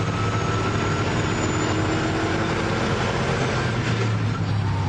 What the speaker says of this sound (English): You just get the raw sound of a V8 doing the bass line